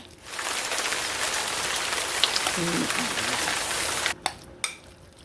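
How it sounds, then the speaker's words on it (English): Rain falling outside, a steady broadband hiss heard from indoors in a home kitchen, with a few clinks and knocks near the end. "Can you hear the rain?"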